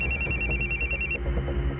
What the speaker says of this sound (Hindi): उसी नंबर से फ़ोन आया